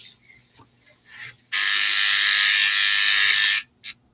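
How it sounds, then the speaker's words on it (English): A dog dryer blasts in a steady, loud, continuous whoosh for about two seconds, then cuts off, with quieter shuffling before it and a brief burst of airflow near the end. "Dryer is going on, drying another dog on in here"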